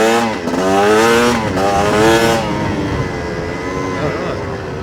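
A Chinese dirt bike cruising in fourth gear, its engine a loud, close, steady drone whose pitch rises and settles, with rough wind noise over the top.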